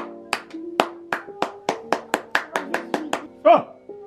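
Hands clapping about a dozen times in a steady, fairly quick rhythm, close and crisp, on a family weekend trip at a fairytale farm, ending with a short vocal sound.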